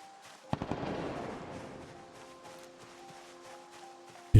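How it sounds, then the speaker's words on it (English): A sharp distant gunshot in Project Zomboid, followed by a couple of quick follow-up cracks and a rolling echo that fades slowly, over faint tonal ambience, ending with a sudden loud thump. "Bit of gunshot over there."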